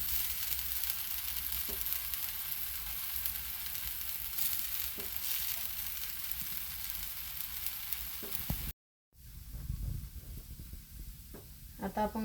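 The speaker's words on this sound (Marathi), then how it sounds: "आपण परत बटर लावून घेऊया." A dosa sizzles steadily on a hot pan with butter, a constant frying hiss with faint scraping ticks, briefly cutting out near the end before crackling resumes with light clatter; no one talks.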